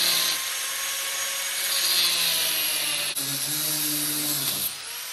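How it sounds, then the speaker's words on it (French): An angle grinder cuts through rusted suspension parts on a Renault Twingo, a steady, loud, harsh broadband whine with shifting pitch that runs continuously, briefly dipping near the end. "je vais prendre la disqueuse. Je vais y couper."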